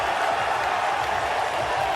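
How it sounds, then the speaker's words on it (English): Crowd roaring at the 2025 NBA Draft after the Brooklyn Nets take Danny Wolf with the 27th pick: a steady, dense wash of cheering and applause, loud and continuous, with no single voice standing out. "And you hear that roar?"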